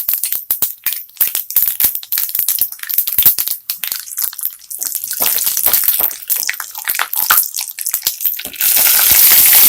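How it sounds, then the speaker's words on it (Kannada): Chana dal dropped into hot oil already crackling with mustard seeds and cumin, a loud, dense sizzle of irregular pops and spatters that swells into a steady hiss by the end. "ಈಗ ಕಡಲೆಬೇಳೆ ಹಾಕ್ತಾ ಇದ್ದೀನಿ."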